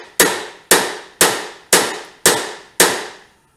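Six sharp, evenly spaced metallic hammer blows land on parts of a 1972 Honda CT70 motorcycle during a rebuild, loud and close, each ringing briefly before the next.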